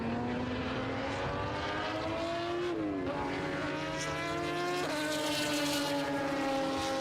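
A Momo-liveried Porsche 962 race car at Silverstone sweeps past, its engine note rising as it approaches and sliding down in pitch as it passes, loud and close, then fading away amid steady track ambience.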